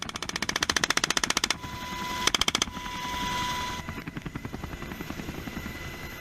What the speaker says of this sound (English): Utilizing MH-60R and MH-60S helicopters, they meticulously track and neutralize target drones off the coast of the naval base Ventura County, Point Mugu.